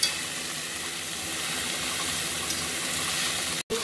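Chicken thighs sizzling steadily in a hot pan for a curry with coconut milk, a dense continuous frying hiss that is loud and close, cut by one brief break near the end.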